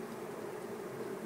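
Honey bees buzzing during a hive inspection, a close, continuous droning hum from many insects, steady and fairly quiet with no voices.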